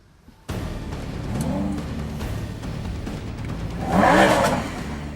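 A Lamborghini Huracán starting up: a sudden loud engine catch after a quiet moment, settling into a rumbling idle, then a throaty rev swelling and easing back, close by with no speech.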